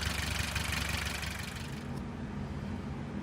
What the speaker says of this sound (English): The engine does indeed run.